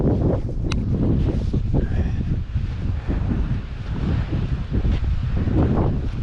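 Strong wind gusts buffet the microphone on a desert canyon hike at Red Rock Canyon, a loud continuous roar that surges and dips throughout, with no voices.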